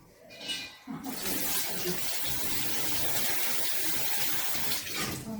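Running tap water splashing steadily over hands at a kitchen sink, a close, continuous gush lasting several seconds after a brief quieter start.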